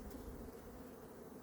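Honeybees buzz steadily around an open hive during a mid-October colony inspection, a close, continuous low drone with no talk over it.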